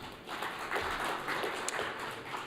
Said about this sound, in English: If you can all give him a welcome applause, guys.